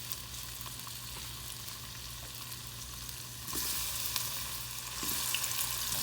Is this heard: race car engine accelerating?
no